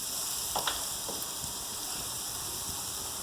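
Zucchini fries in a pan with a steady, even sizzle and hiss, plus a few faint stirring clicks and no talking.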